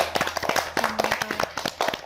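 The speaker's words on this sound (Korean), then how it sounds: "다시 한번 박수." Brief burst of audience clapping at a meditation expo in Seoul, a few sharp claps close together over roughly two seconds, with a faint voice briefly audible.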